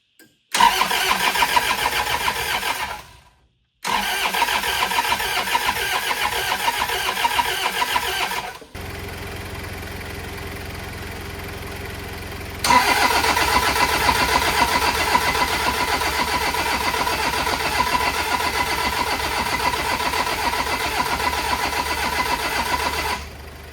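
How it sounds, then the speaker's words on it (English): A Toyota Hilux pickup left sitting for 20 years, with a newly changed timing belt, cranks in repeated rhythmic bursts broken by pauses, then catches and settles into a rough, steady idle, loud and close with no talk. "I tried to get this car started"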